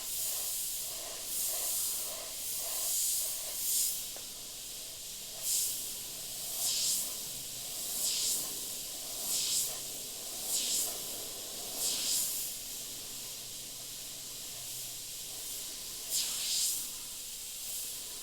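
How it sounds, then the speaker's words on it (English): Sparmax SP.35 airbrush with a small colour cup spraying paint in about a dozen short, airy hissing bursts separated by brief pauses, close and fairly quiet. "But a nice smooth airbrush."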